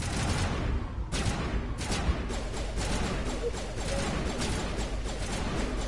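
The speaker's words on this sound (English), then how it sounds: "they're giving me good supporting fire" Dense, continuous gunfire from squadmates in the video game Mass Effect, a steady layered barrage of rapid shots and impacts that runs the whole stretch without letup.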